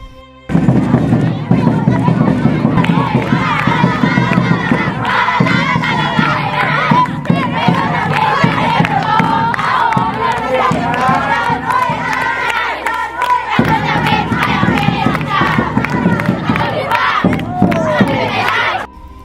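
Villagers cheer on teams pounding rice at a community event, a dense, loud crowd of shouting and whooping that carries on steadily for the whole stretch with scattered sharp knocks beneath.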